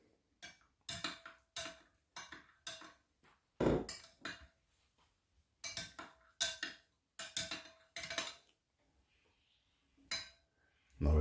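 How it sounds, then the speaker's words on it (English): A spoon stirs a rosemary and cloves mixture, clinking against the pot in a steady series of sharp metallic taps with brief pauses, close and clear, followed by a short gap before a final clink. "Give it a stir."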